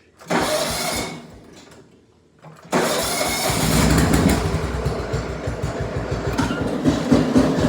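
A riding lawn mower engine cranks briefly, pauses, then fires and settles into a loud, steady idle with a rhythmic low throb, close to the microphone with no talk over it.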